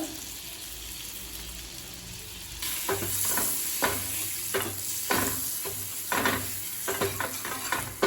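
Eggs seasoned with chili powder and salt are sautéed in a pan: a soft sizzle comes first, then repeated scraping stirs break into the frying noise at an uneven rhythm, close and moderately loud, with no voices.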